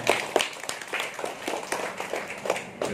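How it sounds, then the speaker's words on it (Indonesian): Guests at a Mass celebrating a 90-year-old man's birthday give a modest round of applause, scattered distinct claps forming a loose, moderately quiet patter. "Tepuk tangan untuk beliau."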